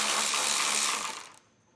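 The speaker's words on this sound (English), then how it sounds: "So with a 10mm socket, we'll get those removed" A 10mm socket on a hand ratchet works loose a heat shield bolt on a vehicle's underside, a loud, dense burst of rapid clicking that cuts off after about a second and a half, with no talk.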